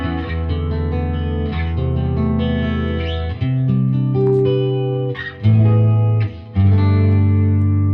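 Electric-acoustic guitar with its toggle set to blend magnetic and piezo pickups, played clean without distortion: strummed chords and picked notes ring out loud and close, sustaining between changes, with no talk over them.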